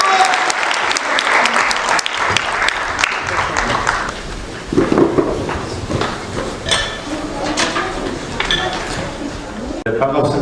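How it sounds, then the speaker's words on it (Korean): A crowd applauds loudly and continuously at an awards ceremony closing a national sports festival, dense clapping filling the hall, with an announcer's voice over it. "큰 박수 다시 한번 부탁드리겠습니다."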